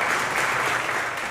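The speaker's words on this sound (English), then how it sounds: "Brooks supporters clapped as the six-term congressman took to the stage at his watch party in Huntsville" Supporters clap steadily at a Mo Brooks election watch party in Huntsville, a dense, sustained wash of crowd applause with no pauses.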